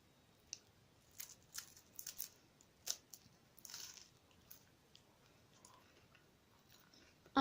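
Crisp bites and crunches of a Kinder Happy Hippo, a hazelnut-cream-filled chocolate wafer with white chocolate details, biting off the nose: a few sharp close snaps and crackles scattered over quiet chewing, with no talking.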